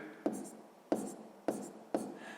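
A pen writes on paper in four quick, regular strokes, soft and close, while a voice speaks quietly underneath.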